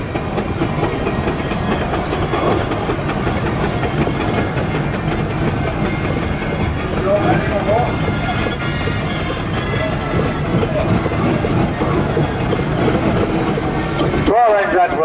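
Full-size steam engines rumble past in a grand parade at a Lincolnshire steam and vintage rally, a dense, steady clatter and chuffing rumble that continues throughout, with someone talking over it and a brief cut near the end.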